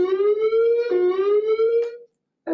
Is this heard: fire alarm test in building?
yes